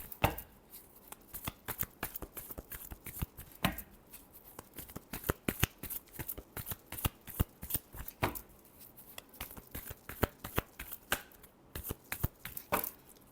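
Tarot cards are shuffled by hand, a close, steady run of sharp papery riffles and flicks with uneven rhythm, continuing without a break and with no talk over it.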